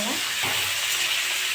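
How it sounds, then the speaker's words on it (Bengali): Carrots fry in hot white oil in a wok on a gas stove, a loud continuous sizzle with a brief scrape of stirring near the start. "গাজরটা একটু ভেজে নিয়েছি"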